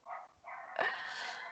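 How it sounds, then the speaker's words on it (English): Pet dogs bark a few times in the background, faint and distant, with short barks rising into a longer yelp. "I don't know if you can hear my dogs barking in the background."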